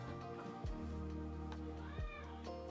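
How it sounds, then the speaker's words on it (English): A house cat meows twice, close and clear, each call a short rising-and-falling cry against a quiet room. "This is my cat."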